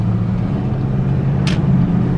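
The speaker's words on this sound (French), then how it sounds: "T'entends même les turbos faire." A turbocharged car engine drones steadily from inside the cabin while driving, a low, even rumble with a brief hissing whoosh partway through.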